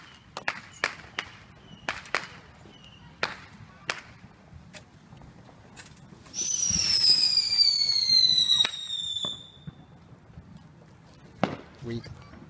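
Small consumer fireworks set off outdoors: a series of sharp firecracker-like pops and cracks, then a loud hissing, whistling aerial shot lasting a couple of seconds, followed by more scattered bangs, with faint voices in the background.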